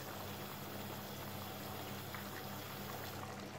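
Rice pilaf simmers in a pot on the stove, giving a soft, steady bubbling hiss that stays even and low throughout.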